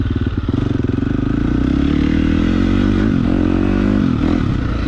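A KTM 350 dirt bike is ridden around the IronDog MX motocross track in New Ulm, Texas. The engine drones loud and steady up close and rises and falls as the throttle changes, with no talk.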